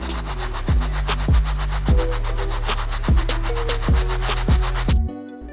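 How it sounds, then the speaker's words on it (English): A stiff bristle brush scrubs an Air Jordan 1 Bred Toe sneaker in about eight even, rhythmic back-and-forth strokes, close and distinct, before stopping abruptly. "It's a really stiff bristle brush and it cleans up really good"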